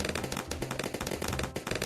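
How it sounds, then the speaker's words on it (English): Loud, dense video game explosion, with a rapid crackle of blasts and gunfire-like bursts that fill the whole two seconds and carry no clear pause. "Look at that explosion."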